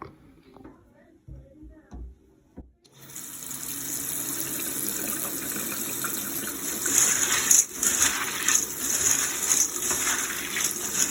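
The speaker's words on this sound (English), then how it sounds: "I'm just going to go ahead and give them a rinse and sort through to make sure there aren't any little rocks" Dried chickpeas are rinsed under a kitchen tap. After a few quiet seconds of small handling sounds, water gushes on and runs steadily with shifting splashes as the chickpeas are stirred and sorted.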